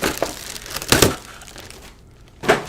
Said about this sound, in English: So I'm just gonna rip this up.